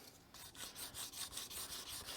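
A coarse sponge sanding stick rubs against a plastic model kit part of the U.S.S. Reliant, making a steady rhythmic rasping scrape in repeated strokes, close and alone with no talk.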